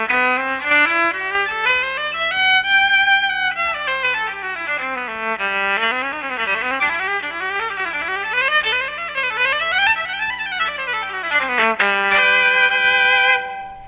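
Cecilio CEVN silent electric violin played alone, a continuous bowed melody with sliding, gliding pitch runs rising and falling, steady and close, with no voices.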